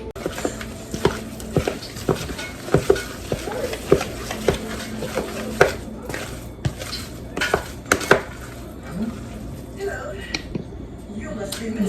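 A salmon cake mixture seasoned with pepper, garlic, paprika and Old Bay is mixed in a bowl, giving close, irregular clinks and scrapes of utensil against the dish while a person talks over it.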